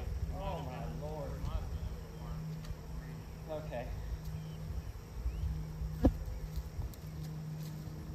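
Bees swarm around a hive and loose comb during a messy hive cleanup, giving a steady, low droning buzz close by, with brief voices breaking in now and then.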